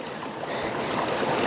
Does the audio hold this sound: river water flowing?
yes